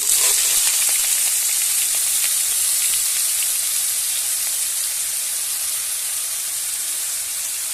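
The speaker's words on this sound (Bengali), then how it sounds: "তেলটা গরম হয়ে গেছে দিয়ে দেবো বেগুন" Eggplant slices fry in hot oil, giving a loud, steady, dense sizzle that holds at an even level throughout with no talking.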